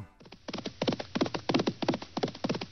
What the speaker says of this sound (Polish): Koń Rafał szedł zadowolony w najlepsze.